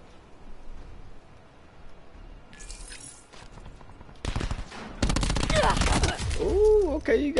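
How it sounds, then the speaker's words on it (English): Rapid gunfire in a video game, aimed at the player's robot, rattles in dense bursts that grow louder in the second half over a low background, with faint speech underneath. "Oh, my robot is under fire."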